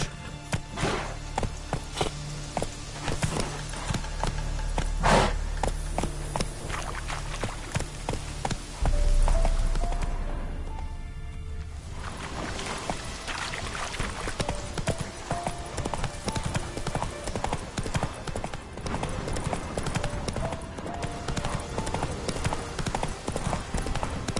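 The horse Roach gallops steadily in The Witcher 3, a loud continuous clip-clop of hooves with brief louder surges and background game ambience, and a voice speaks briefly over it.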